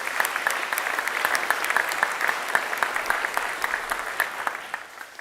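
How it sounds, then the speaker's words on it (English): Applause for a brass ensemble at a school awards ceremony, a dense and even patter of many hands that holds steady for several seconds before fading slightly at the end. "Can we please give them another round of applause?"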